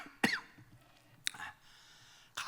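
A man coughs a few times while preaching at a church revival service: short, dry, throat-clearing bursts spaced about a second apart, close and fairly quiet.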